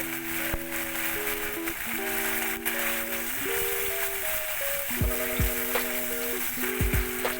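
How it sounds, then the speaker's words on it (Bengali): Green chili paste sizzles in hot frying oil, a constant hissing crackle that sits beneath steady background music with sustained tones, close and without speech. "তেলটা ফেসে উঠেছে। এর মধ্যে আমি একটু কাঁচা লঙ্কা বাটা দিয়ে দিলাম স্বাদ মতো।"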